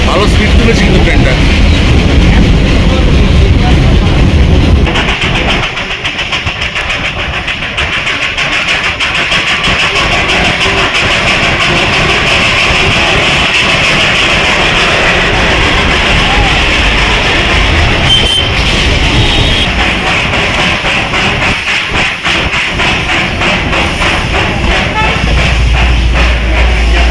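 The Darjeeling Himalayan Railway toy train runs at a good speed on a joy ride around Batasia Loop, giving a loud, continuous rumble and clatter close by, with voices mixed in.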